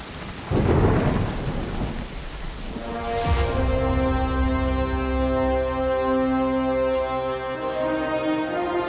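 Heavy rain pours steadily while a deep, close roll of thunder rumbles and fades, followed by a long, low, droning hum under the downpour.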